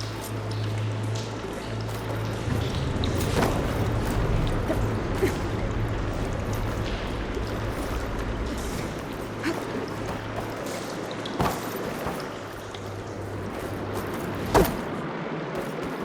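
Water flowing into an indoor room in the video game Horizon Forbidden West, a steady, even wash of running water that fills the whole stretch, with a low hum beneath and a few brief clicks near the end.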